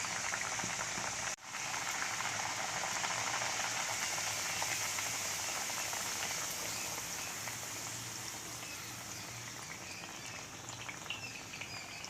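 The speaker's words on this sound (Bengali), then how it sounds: "আমি আর একটা ভেজে দেখাচ্ছি।" Spinach puri frying in hot oil on a high flame, a steady, even hiss and crackle of bubbling oil that continues alone, close and fairly quiet.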